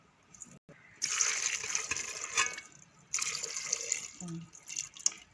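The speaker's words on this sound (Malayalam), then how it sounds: "ഇത്ര വെള്ളം വെച്ചാൽ മതി കേട്ടോ." Water from a tap pours into a pot holding purple yam pieces, two strong gushing runs separated by a brief pause, close and steady with faint handling noise.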